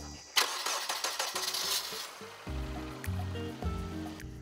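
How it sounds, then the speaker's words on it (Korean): A car with a battery that had gone dead cranks and its engine starts, catching into a loud, rough running roar close by, with outdoor water-like background noise. "우렁찬 시동 소리와 함께 밝아진 여자의 표정"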